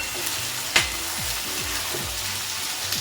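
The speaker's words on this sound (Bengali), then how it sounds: "তেল গরম হয়ে গেছে, এই পেঁয়াজ দিয়ে এখানে বড় বড় 4-5টা পেঁয়াজ আছে।" Large onions frying in hot oil over a high flame, a steady close sizzle with a sharp clatter near the start and soft stirring scrapes throughout.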